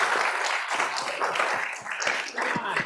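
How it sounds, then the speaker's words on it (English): Applause at a life sciences tech forum: a steady wash of many hands clapping from a conference crowd, sustained and fairly even throughout, with a few sharper claps standing out. "So can you give them all a big round of applause?"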